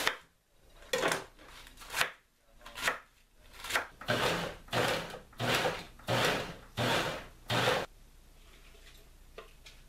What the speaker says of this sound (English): Let's cut that base off.